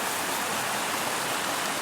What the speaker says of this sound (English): this has been the prettiest walk so far along the stream